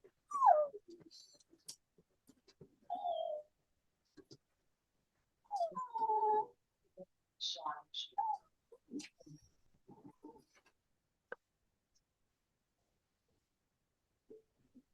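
A spoiled pet dog whimpers and whines in short, high, plaintive bursts scattered through a quiet indoor room, with a few brief pauses between cries.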